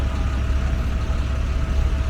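Low, steady engine rumble of road traffic at a congested city intersection in Kensington, with a bus and truck idling nearby, a continuous heavy drone with no distinct passes or horns.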